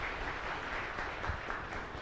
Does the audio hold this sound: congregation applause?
yes